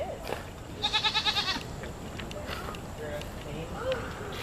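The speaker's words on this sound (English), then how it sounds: "Yeah, little baby goat." A baby goat bleats in one close, wavering burst of rapid quavering pulses, heard outdoors at a farm-animal enclosure while people talk nearby.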